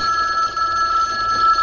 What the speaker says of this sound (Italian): ma guarda che hai un telefono che sta suonando